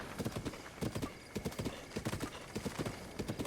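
Horse hooves clip-clop steadily in a rhythmic trot across a path in Zelda: Breath of the Wild, close and clear, with no talking over them.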